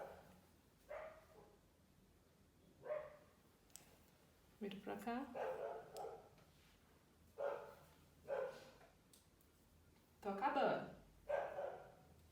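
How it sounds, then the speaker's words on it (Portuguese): Many dogs bark around a residential condominium, their repeated barks and yips coming in intermittent bursts at a moderate distance while someone talks over them. "tem um monte de cachorro latindo no condomínio"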